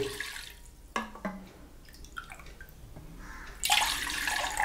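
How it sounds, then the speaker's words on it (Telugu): Water is poured into a bowl of grated ginger, heard as a few splashes and drips followed by a louder, sustained pour near the end, without speech. "ఈ అల్లం మిశ్రమానికి ఒక గ్లాసున్నర వాటర్ని మనం యాడ్ చేసుకోవాలండి"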